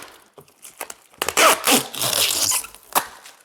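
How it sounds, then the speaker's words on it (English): Protective plastic film is peeled from a display case front panel during assembly, giving a burst of crackling, tearing rustles after a few soft handling clicks, then a sharp final snap. "Remove your plastic film."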